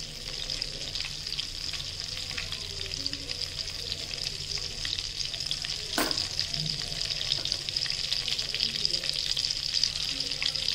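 Curry leaves fry in hot butter for makhana chivda, giving a continuous bright crackling hiss at moderate level, with one sharp clack near the middle and faint background noise.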